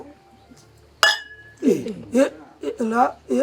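A single sharp glass clink rings out once, bright and close, then voices talk and laugh over the fading tone in a Rwandan comedy scene.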